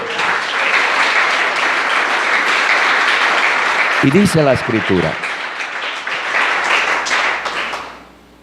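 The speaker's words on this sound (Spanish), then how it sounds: "Dele un fuerte aplauso." Loud, sustained applause from a church congregation at a Sunday service, continuous dense clapping throughout, briefly overlapped by a voice speaking in the middle before the clapping tapers off at the end.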